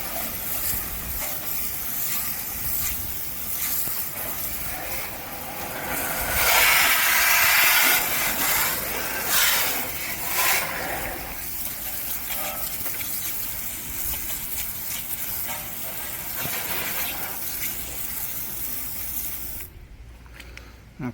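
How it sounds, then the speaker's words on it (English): Water spray rinses a washed car wheel on the Cerakote-coated side, a broad hissing rush that swells loudest for a few seconds midway, then settles into a steadier, softer spray before cutting off near the end. "We're gonna do our rinse."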